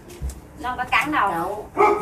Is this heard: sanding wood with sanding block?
no